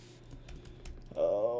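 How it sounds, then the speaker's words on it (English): Keystrokes on a computer keyboard tap quietly and unevenly during a livestream, with a voice speaking over the end. "I'm having a hard time typing tonight."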